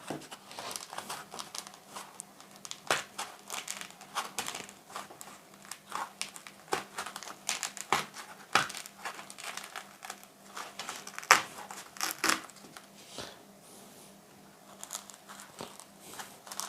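Layers of shadow foam being peeled apart by hand from a tool chest drawer insert, giving repeated crinkly, crackling tears and soft scrapes at close range, with brief pauses between pulls.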